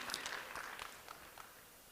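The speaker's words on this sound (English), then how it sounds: "A big round of applause for Raghav and his team." Audience applause at a cinema technology expo, a quiet, fairly distant wash of clapping that fades gradually over two seconds.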